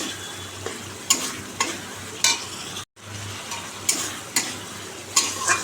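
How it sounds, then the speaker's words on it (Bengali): Tomato sautéing with spices in oil hisses at a low, soft level. A spoon scrapes against the pan several times as the mixture is stirred, and the sound cuts out for a moment partway through. "সাতলাবো টমেটোটা দিয়ে দিলাম যতক্ষণ এটা দিয়ে তেল না বেরোচ্ছে"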